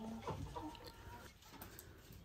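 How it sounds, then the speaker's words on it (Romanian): Wyandotte partridge hens and roosters cluck softly in a backyard flock, a low steady murmur of short clucks with faint background noise and no speech. "Vom ține familia de potârnichiu, care sunt 3 găinușe și 2 cocoșei."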